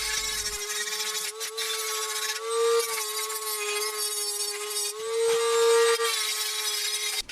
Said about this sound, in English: I will grind off all the rust and see the real state of the metal shield.